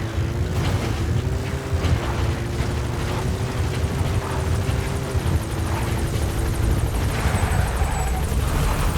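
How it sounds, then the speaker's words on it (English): Support helicopter in Metal Gear Solid V: The Phantom Pain, a steady loud rotor drone with a low throbbing hum that holds throughout at close range, with no talking. "Support helicopter has arrived."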